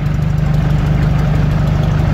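A heavy GAZ-63 off-road truck engine idles with a low, steady rumble and faint knocking vibration, constant throughout with no voices.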